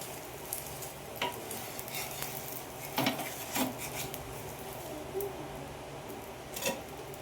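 Dosa made from a single batter sizzles steadily on a hot pan while it is flipped, with a few sharp spatula clicks and scrapes rising above the constant frying hiss, close and moderately loud.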